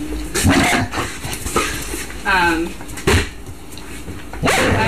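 Several dogs bark and yip at a kennel housing puppies, with sharp barks scattered through the clip over steady background noise and a person talking nearby.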